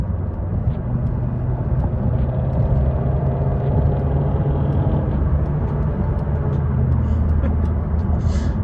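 A Hyundai Elantra drives along with a steady low engine and road rumble that holds even and close throughout, with no talk over it.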